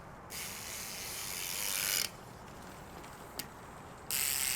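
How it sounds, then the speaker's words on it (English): Freewheel on a 22-inch trials bike with 108 engagement clicks: a fast, dense buzzing ratchet spins in bursts, close and loud, with brief pauses and a sharp click between runs. "The freewheel, instead of 36, has 108 clicks, and is really loud."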